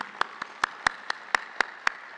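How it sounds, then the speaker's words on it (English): At an annual meeting in a hotel, a few people clap for elected officials, about nine separate, well-spaced claps that sound sparse and thin over a quiet room. "So let's give them a round of applause."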